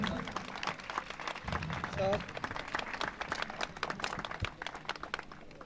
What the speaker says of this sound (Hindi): put your hands together